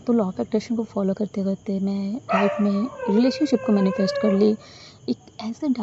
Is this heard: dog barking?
yes